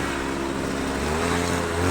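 Engine of a cross/dirt motorcycle drones loudly and steadily close by, a continuous motor hum with a slight rise toward the end, without any talking.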